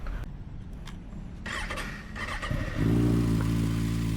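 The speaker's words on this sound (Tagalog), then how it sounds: "Kawasaki ZX6R 2025 KRT. It's the green and yellow edition." A 2025 Kawasaki ZX6R KRT sport motorcycle idles at night in a city street, a low steady engine drone that swells louder partway through after some lighter clatter and handling noise.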